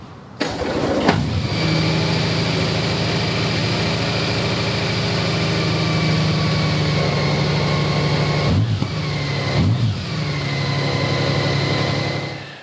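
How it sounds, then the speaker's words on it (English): A Honda Goldwing motorcycle engine starts with a burst, then runs at a steady, loud idle, briefly revved twice near the end before settling back. "you turn the bike on and you start it and let it run"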